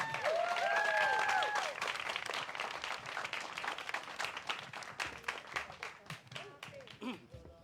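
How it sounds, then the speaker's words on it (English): An audience at a political talk in Bandar Utama, Malaysia applauds steadily, dense clapping filling the space, with a few brief whistles near the start before the clapping gradually thins out. "Everybody, round of applause for Al-Hafiz"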